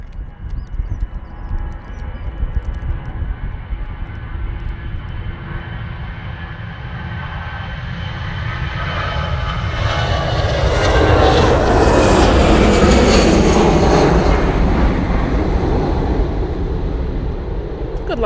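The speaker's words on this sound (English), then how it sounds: "Landing there from the Ryanair" A Ryanair airliner landing at Manchester Airport, its engine roar swelling steadily from a distant rumble to a loud, close peak and then fading slightly, with no voices over it.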